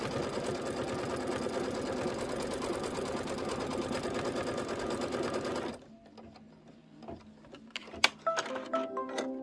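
Sewing machine stitching a quilt tack-down line for a bee block, running loud and steady for about six seconds before stopping, followed by scattered quieter clicks and handling noises.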